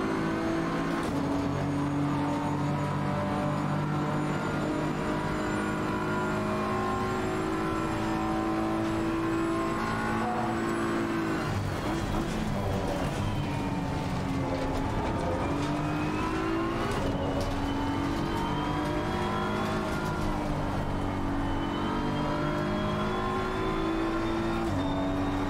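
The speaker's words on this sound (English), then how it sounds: "Racing at night in ACC is so much fun." Race car engines in the racing game Assetto Corsa Competizione during a night race, a steady loud drone of revving motors with rising and falling pitch as cars accelerate and pass, continuous with no talk.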